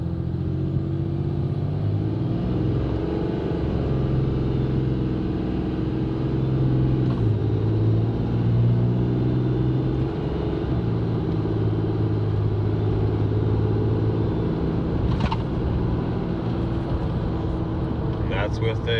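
A vehicle engine with a 5-inch intake drones and climbs under load while towing a trailer, a heavy rumbling roar that rises and shifts from fifth into sixth gear, with a voice speaking over it.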